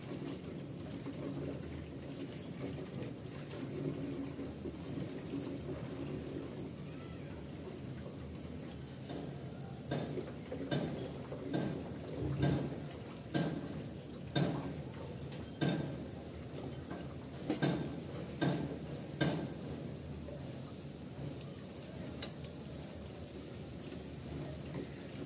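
Bread fingers fry in hot oil over medium-low heat, a steady soft sizzle with a run of sharper pops and taps midway as pieces are turned in the pan.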